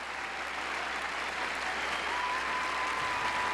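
An audience at a United States Marine Drum and Bugle Corps performance applauds in a steady, even wash of clapping that sounds faint and somewhat distant, with no voices standing out.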